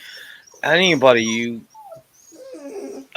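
A dog whimpers in high, wavering whines, loud and close for about a second, then softer whimpers trail off, with voices nearby.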